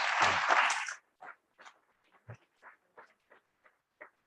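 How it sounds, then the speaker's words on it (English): Applause for a guest speaker at a university biomedical engineering seminar: a dense burst of clapping that dies away after about a second, leaving a few scattered, isolated claps. "Let's give another round of applause to Dr. Wells."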